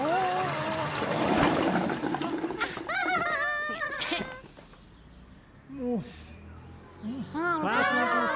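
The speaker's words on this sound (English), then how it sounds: "Mr. Woods lets the sea down the drain." Cartoon sea water drains away down a drain as bubbly, gurgling sliding effects that come in bursts, with a quieter pause partway through.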